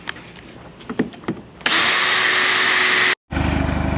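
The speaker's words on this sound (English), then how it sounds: "So gotta drill that out." A power drill bores into a carbon fiber trunk lid on an Alfa Romeo Giulia, a loud steady whine running about one and a half seconds, cutting out, then resuming, after a few soft taps and knocks.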